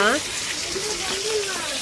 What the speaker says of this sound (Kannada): ಸಖತ್ ಮಳೆ ಬರ್ತಾ ಇದೆ